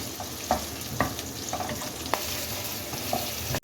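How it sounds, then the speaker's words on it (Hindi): Sliced onion fries in oil in a kadhai with a constant soft sizzle, punctuated by several light scraping stirs and taps of a spoon at regular intervals. "अब प्याज को इसमें फ्राई कर लें।"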